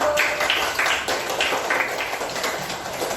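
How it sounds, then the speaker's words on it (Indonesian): Students in a classroom clap for their group, a steady patter of many hands at moderate distance, fairly even and continuous without a clear beat. "silakan tepuk tangan buat di kelompok 1"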